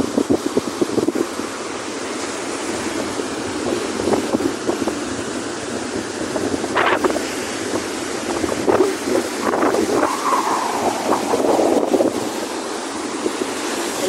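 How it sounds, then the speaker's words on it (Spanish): Surf rolls onto a beach at Mazatlán, Sinaloa, near a riverside hotel, with gusty wind buffeting the microphone. Waves wash in and recede in a steady churn, and a few louder breaks rise over the noise. "Pues se ve la playita."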